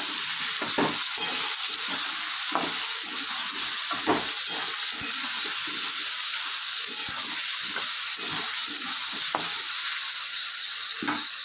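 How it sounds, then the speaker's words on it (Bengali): Chopped ginger sizzles steadily in hot oil in a pan for a pumpkin, potato and pointed gourd curry, a constant loud hiss broken by repeated scraping stirs, with no voices. "আদাটা দিয়ে একটু কষিয়ে নেব"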